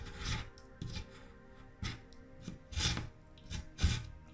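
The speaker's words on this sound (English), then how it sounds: "Just scrape the edges off." A tool scrapes the rough edges off a resin charcuterie board in about six separate rasping strokes at uneven intervals, close and fairly quiet with no talk.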